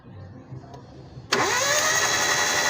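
A 2015 Hyundai Eon with a rusted tensioner catches suddenly, its engine cranking then firing into a steady, close idle after a second or so of quiet.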